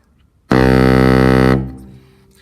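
One low, buzzy baritone saxophone note sounds loud and steady for about a second, then cuts off and fades into room echo.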